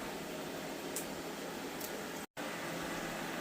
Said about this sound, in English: I apologize for the vacuum noise.